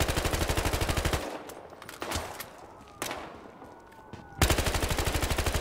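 Rapid automatic bursts from an M16A3 rifle in Battlefield Hardline, loud evenly spaced shots at the start and again at the end, with sporadic single reports and quieter game sounds in between.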